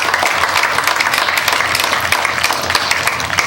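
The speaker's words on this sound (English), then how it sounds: "So now we can applause for all those great people." A large audience claps steadily at a Torrance centennial birthday celebration, a loud, dense wash of applause that runs the whole time without letting up.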